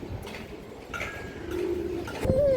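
A pigeon of an old-line breed on a pigeon farm gives soft, low cooing calls in a few short phrases, close by and fairly quiet, with no voices.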